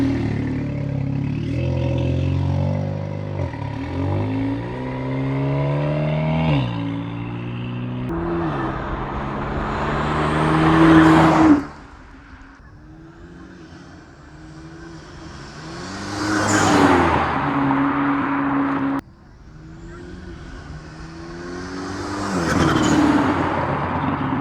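Audi S3 fitted with a Forge Motorsport blow-off valve, driving on the street: engine drone rises through the gears, with two sharp hissing whooshes as the valve vents when the revs drop, loud and close.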